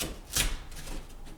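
A wooden shim being cut off where it sticks out beside an interior door jamb during installation, one sharp snap near the start followed by fainter scraping, close up with no talking.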